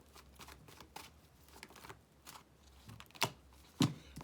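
A deck of tarot cards is shuffled by hand in soft, quiet riffles and shuffles, ending with two sharper slaps as the cards are tapped or set down, heard close up with no talking.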